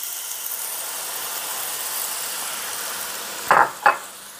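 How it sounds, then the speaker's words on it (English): Steady hiss of a couple of tablespoons of beef broth sizzling in a hot pan while deglazing after cooking hamburger steaks, then two brief clinks of a whisk against the pan near the end. "I'm going to add a little bit of beef broth, maybe a couple of tablespoons"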